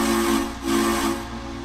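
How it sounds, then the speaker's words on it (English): Deep three-chime echo steam whistle of a Frisco USRA Mikado steam locomotive in the Trainz railroad simulator, two long sustained blasts with a brief dip between, loud and close over a hissing steam background. "the three-part echo whistle"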